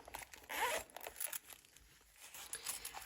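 Zipper on a purse being pulled open, a quick close rasping zip followed by lighter crinkling and rustling handling sounds.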